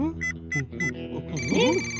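A phone ringtone chimes in short repeated bursts, then a melodic tone plays on, with a voice speaking over it.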